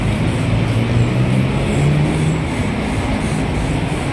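LRT light rail train passing near the NLEX footbridge, a continuous low rolling rumble with faint rail clatter, steady and moderately close.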